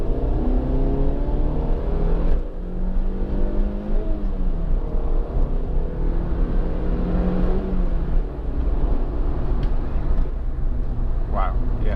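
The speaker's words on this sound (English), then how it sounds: "I'm going to shut up in a second and just put my foot down hard and go through a couple of the gears and then hit the brakes hard" A Suzuki Swift 1.6 VVT Sport three-door accelerates hard through a couple of gears. The loud, close engine note climbs steadily, drops at each gear change, then climbs again.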